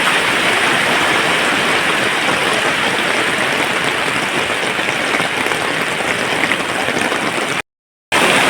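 Heavy rain pours down hard on a tarpaulin shelter outdoors, a dense, loud, unbroken roar that holds steady throughout with a brief cut near the end.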